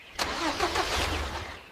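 Engine of a cartoon tractor in a 2D farm comedy cranking and catching with a sharp start, then settling into a steady mid-pitched running rumble, close and fairly loud, with no voices.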